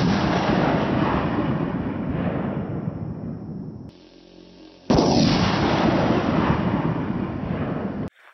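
A gunshot at an explosive target canister that fails to detonate, followed by a long, loud rumbling roar that fades, a brief lull, then another sustained heavy rumble close by.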